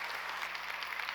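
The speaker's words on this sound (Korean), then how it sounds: "우리 강사님께는 큰 축복의 박수를 보내주시기 바랍니다" Steady, dense applause from a church congregation welcoming a guest pastor at a dawn autumn revival service, a continuous even wash of clapping with no voices over it.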